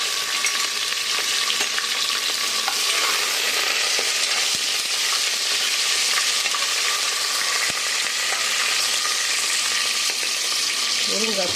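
Drumstick pieces being stirred in a frying pan while cooking sambar, with a dense, steady sizzle and frequent light scraping of the spoon against the pan, constant and close throughout.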